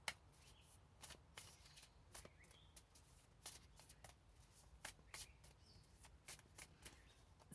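An oracle card deck, the Sacred Creators deck, is shuffled by hand close by, with quiet, repeated riffling flicks and soft card slaps in an otherwise hushed room.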